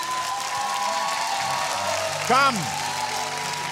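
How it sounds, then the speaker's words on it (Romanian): A live TV singing contest audience applauds a singer, clapping and cheering under a host's loud spoken announcement, the crowd noise steady and somewhat distant behind the voice. "Aplauze pentru Cam!"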